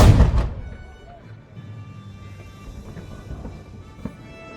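A saluting cannon fires at the Saluting Battery in Valletta, giving one loud, booming blast at the start that decays into a long rumbling echo and open-air ambience.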